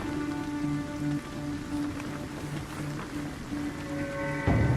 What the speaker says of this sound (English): The rain, it just keeps coming down.